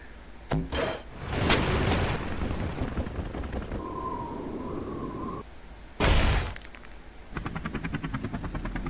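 Tank cannon fire and explosions in a video game: several loud, sharp booming blasts with rumbling tails, spaced apart, followed by a rapid rattling burst of fire near the end.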